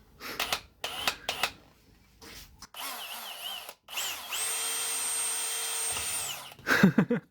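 A power drill whines steadily for several seconds, close and sustained, preceded by short clicks and bursts and followed by a few knocks.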